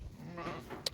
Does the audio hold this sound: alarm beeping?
no